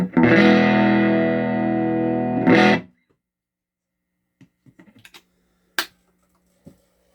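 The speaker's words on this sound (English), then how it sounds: "Let's try it with a Strat. Strat, of course, has got the single coils, and it's going to sound a lot thinner." A Fender Stratocaster with single-coil pickups played through a Dark Lord amp: a loud distorted chord rings for over two seconds, then a second hit cuts off into quiet, followed by a few faint clicks and taps.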